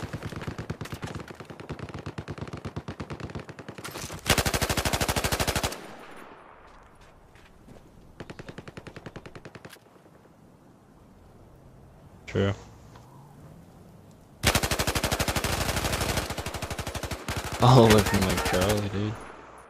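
Machine gun fire in a military video game, coming in several loud sustained bursts separated by quieter stretches of scattered shots and movement, with voices talking over the action.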